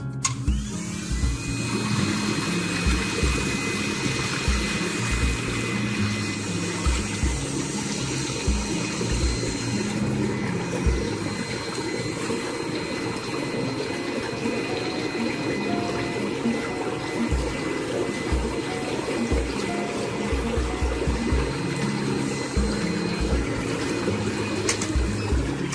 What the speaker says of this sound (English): So the bubbles are kind of noisy, but they're very relaxing.